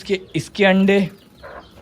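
A hen clucks several times, short rhythmic calls close by, alongside a person speaking.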